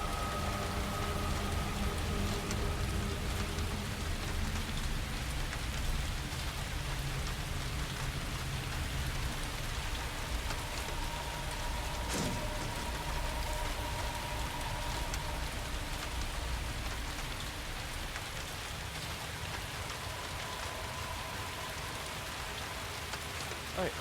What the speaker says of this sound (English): as always, you can hear the rain.